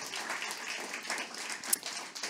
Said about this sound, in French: on peut donner une main d'applaudissement à toutes ces belles personnes